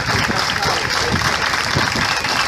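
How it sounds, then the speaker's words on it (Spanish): An audience at a municipal Independence Bicentennial celebration applauds a local theater troupe's students with sustained, dense clapping that carries on evenly for the whole stretch. "fuerte ese aplauso"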